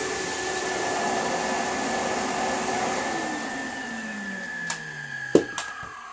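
A rare Hitachi CV-50D upright vacuum cleaner running with a steady motor whine and airflow hiss that winds down toward the end, followed by a few sharp clunks and knocks close by.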